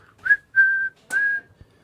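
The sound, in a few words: whistle sound in hip hop song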